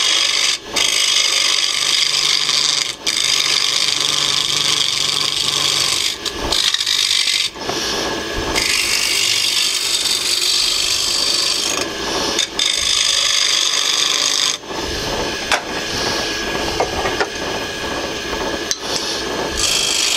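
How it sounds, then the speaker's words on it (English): A tool scrapes a spinning maple bowl on a wood lathe, a loud, continuous rasping rub with brief breaks where the cut lifts off, heard alone without talk. "We'll switch up to some more scraping type action."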